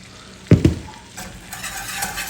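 Flour is stirred into melted butter in a pot, giving two sharp scrapes at the start. A soft, steady sizzle and stirring noise follow.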